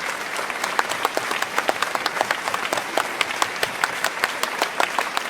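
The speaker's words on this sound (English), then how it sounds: "Please stop clapping." Audience applause rolls on steadily with dense clapping and a few sharper individual claps, fairly close and filling the whole stretch at a comedy show.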